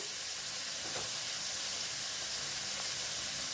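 Garlic-ginger paste fries in a hot pan, giving a steady broadband sizzle and hiss that runs evenly throughout at a moderate level, with no voices.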